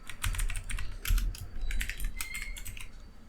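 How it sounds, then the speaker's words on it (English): Rapid keystrokes on a computer keyboard as code is typed, a steady run of close, crisp clicks with brief pauses between bursts. "go ahead and type v1 dot toString."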